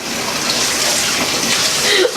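Hot tap water runs steadily in a home kitchen sink, a continuous close rushing hiss that holds for the whole stretch without breaks.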